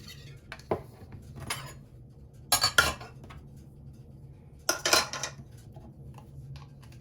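Wet pancake ingredients get whisked in a bowl, heard as a few short bursts of metal-on-bowl clinking and scraping separated by quiet gaps.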